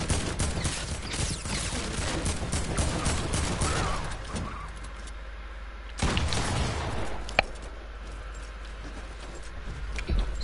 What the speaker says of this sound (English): See, I use my shotgun as well, what a surprise.